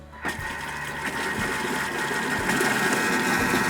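A kitchen machine whirs steadily at speed 4 with its blades spinning, mixing garlic aioli, as a constant close mechanical drone with slight rattles.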